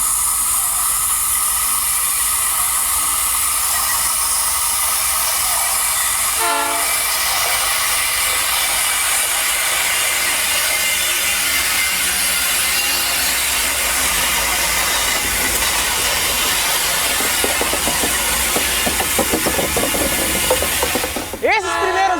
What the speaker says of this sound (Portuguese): Esses primeiros trens que a gente avistou